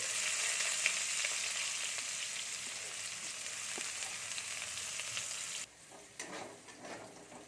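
Chopped onions sizzle loudly in hot oil in a pan for a village-style yardlong bean and pumpkin dish, a steady crackling hiss that drops suddenly to quieter frying near the end.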